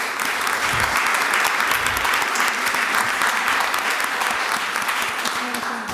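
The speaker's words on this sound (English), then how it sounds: "Let's clap it up for these ladies." A room of people at a city council meeting applauds the girls' basketball team after their great season, a steady dense wash of clapping that holds loud and even throughout.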